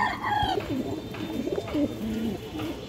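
A Giribaz pigeon coos close by, a string of low, rolling, wavering coos repeating over a few seconds against a quiet room background, with no speech.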